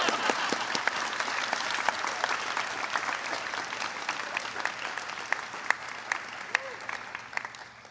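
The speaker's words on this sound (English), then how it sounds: "Applause is appropriate now." An audience applauds at the South Carolina Honors College convocation, with dense, steady clapping from a large crowd that holds through the whole stretch at a fairly even level.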